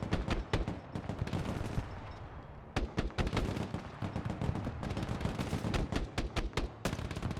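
Automatic weapons fire in the real-time strategy game Broken Arrow, with machine gunners in a forest: dense, rapid bursts of gunshots crackling almost nonstop, loud and close, with a brief lull partway through and no talking.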